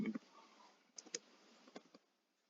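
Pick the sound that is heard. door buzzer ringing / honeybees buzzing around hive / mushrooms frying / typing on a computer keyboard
typing on a computer keyboard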